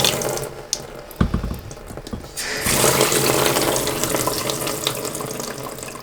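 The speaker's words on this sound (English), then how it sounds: "we've got the water shut off to the cabin and all the water lines drained down" Water rushes from an open tap as a cabin's house water lines are drained, starting with clunks and a splashy trickle, then swelling into a loud, steady gushing flow.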